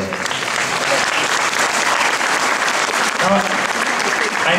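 Dense applause from an audience at a school performance for a band, steady and continuous throughout, with a few faint voices calling out beneath the clapping.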